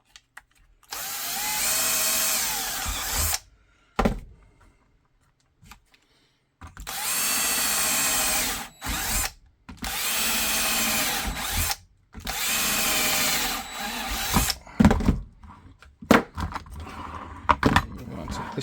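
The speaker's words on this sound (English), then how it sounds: "And then drill that out with the 1/4 inch." Holster leather for an FNX 45 TLR8 pancake-style holster is bored with a 1/4 inch drill bit. Several loud, whining drill bursts of a few seconds each are separated by short quiet gaps, close to the microphone.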